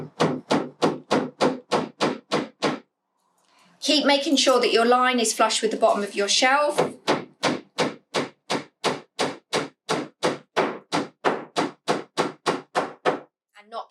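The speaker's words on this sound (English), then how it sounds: "Knock your nail into place." Steady hammering drives nails into a pallet wood shelf piece for a bug hotel, about two dozen sharp, evenly spaced blows close by, pausing briefly while a person talks before the regular strikes resume.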